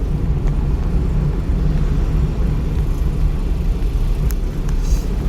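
Car engine hums and rumbles steadily from inside the vehicle during a driving-school lesson in Solan, a loud continuous low drone with faint clicks over it.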